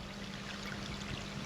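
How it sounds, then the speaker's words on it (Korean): Faint, steady trickle of a small mountain valley stream in winter, a soft continuous babble of running water heard alone at a distance. "지금 가만히 있으니까는 그래도 졸졸졸 소리 네,"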